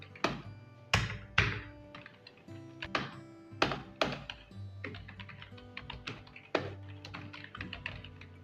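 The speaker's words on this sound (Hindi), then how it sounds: "उसके बाद यहाँ पे हम टाइप करेंगे लोकेशन, यहाँ पे हम टाइप करेंगे रिपोर्टिंग मैनेजर" Keys on a computer keyboard clack in an uneven rhythm as headings are typed into an Excel sheet, with some sharper, heavier presses standing out among the lighter taps, close and clear.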